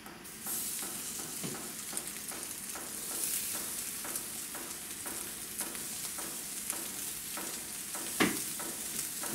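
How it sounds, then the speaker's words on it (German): Chicken fillet searing in a very hot Dutch oven, a dense, continuous sizzle with intermittent crackles and pops, close and steady throughout, with no talking. "Jetzt werde ich das schön scharf angrillen"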